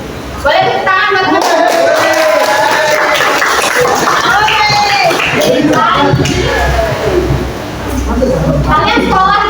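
Pupils in a classroom clap their hands together, a busy patter of claps mixed with children's chatter and calls throughout.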